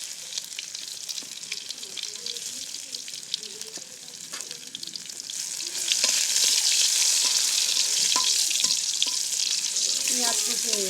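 Chopped garlic frying in a pan, a steady broad sizzle that swells louder halfway through, with occasional clinks and stirring scrapes, no talk.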